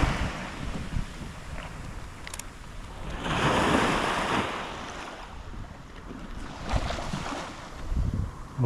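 Steady wind and water wash at Tōgō Lake in a lakeside seaside park in Tottori, heard as broad continuous rushing with gusty swells and heavy microphone wind buffeting.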